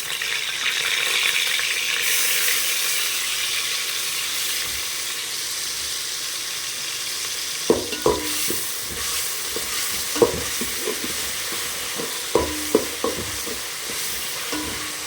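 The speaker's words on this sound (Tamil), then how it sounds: "இதில் வெங்காயம் வதங்கட்டும் இஞ்சி பூண்டு பேஸ்ட்டு" Onions fry with ginger garlic paste in a pan for a chicken curry, giving a steady close sizzle, with sharp stirring knocks and scrapes starting about halfway through.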